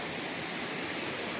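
A waterfall in Vagamon roars as water crashes down from above, a constant broadband rush with no break, steady and enveloping.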